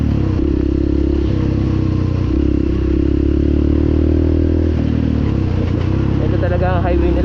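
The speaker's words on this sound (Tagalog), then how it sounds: "Ang dami na namin nakasalubong na motor." Motorcycles riding a rough rainy trail on a barangay road toward Ilagan City, Isabela: a loud, close engine drone with rattling and scraping from the rough surface, plus faint voices underneath.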